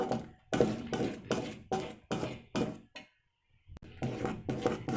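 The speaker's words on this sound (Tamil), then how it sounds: "இது போல் நல்லா கைவிடாமல் கிளறிக்கிட்டே இருக்கணும்." A spoon scrapes and stirs thick halwa made from cooked rice and ghee in a pan, giving about seven rhythmic close strokes, a brief silent pause, then more steady scraping.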